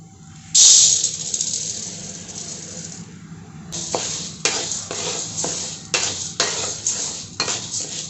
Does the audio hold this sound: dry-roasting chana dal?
yes